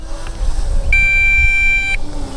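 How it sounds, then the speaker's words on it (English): An MJX Bugs 6 quadcopter's low-battery warning: a single sustained high-pitched electronic beep sounds for about a second over low motor rumble and wind. "that annoying beep that you're hearing right now is to tell me that it's time to land"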